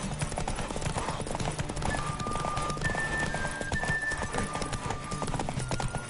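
Rapid hoofbeats of a horse in the video game Witcher 3 clatter in a steady galloping rhythm, close and continuous, with a brief horse whinny partway through.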